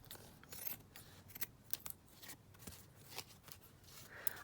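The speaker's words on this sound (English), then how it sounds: "Okay, let's just trim that down." Scissors trim lace on a fabric tag, giving several quiet, sharp snips spread through a soft, low-level background, close but faint, with no speech.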